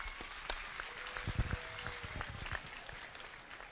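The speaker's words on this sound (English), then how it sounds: "Give a round of applause for our judge" Audience applause for the judge at an open class swine show, a burst of clapping from a crowd that peaks near the middle and then tapers off.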